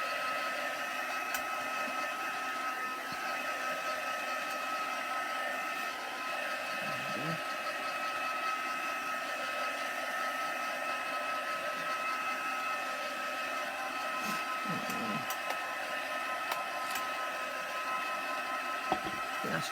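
Hair dryer drying glue on a textured mixed media bottle: a steady, loud whooshing hum running continuously and close, with a few faint bumps and shifts in tone as the dryer is moved.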